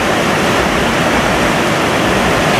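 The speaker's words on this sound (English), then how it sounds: "We're on top of a waterfall right now." Waterfall on Lee Vining Creek heard from right at its top, a loud, dense, unbroken roar of swift rushing water with no voices.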